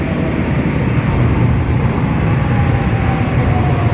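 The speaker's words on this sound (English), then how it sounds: "There's the train." A Warsaw S-train commuter train rumbles past close by, a loud, continuous low roar with a steady mechanical hum and no voices.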